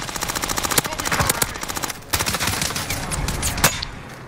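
Rapid automatic gunfire in the Warzone Rebirth Island video game, with dense, continuous bursts of machine-gun shots close and loud throughout. A brief pause comes midway before the firing resumes.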